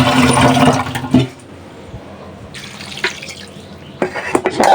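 Water gushes loudly into a pot for boiling fish, a heavy rushing pour that breaks off, then a quieter spell with small clinks before another burst of splashing.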